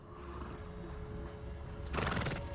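A horse whinnies in the Hogwarts Legacy video game, a loud burst near the end over a steady game background hum.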